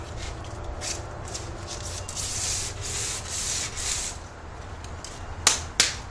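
Coarse sandpaper rubs back and forth in steady strokes against a hard PVC bow, close and scratchy, ending with two sharp knocks.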